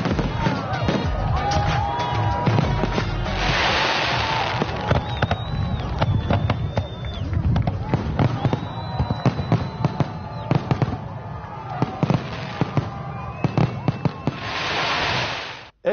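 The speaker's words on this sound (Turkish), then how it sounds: "Yeter de havai fişek." Fireworks burst repeatedly during a celebration over the sea, with crackling bangs and rising whistles layered over a continuous murmur of crowd and talking voices throughout.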